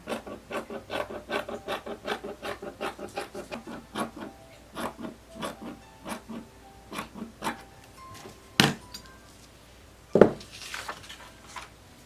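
Scissors cutting fabric for a tulip-sleeve blouse: a quick, regular run of close snips that slows and spaces out, followed by a couple of sharper, louder clacks near the end.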